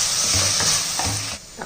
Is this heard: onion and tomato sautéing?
yes